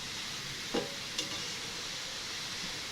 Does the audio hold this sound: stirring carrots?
yes